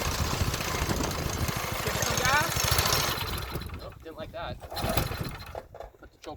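Formerly seized engine, just revived, runs with the choke on in a loud, rough, uneven roar that cuts back and sputters about halfway through, with voices heard over the quieter running.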